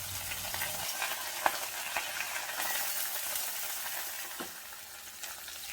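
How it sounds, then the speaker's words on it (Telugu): Chopped onions and green chillies frying in oil in a pan: continuous close sizzle with occasional spatula scrapes and taps, no voices. "కట్ చేసి పెట్టుకున్న ఉల్లిపాయ ముక్కలు అలాగే పచ్చిమిర్చి ముక్కలు వేసుకుని దోరగా వేయించుకోవాలండి"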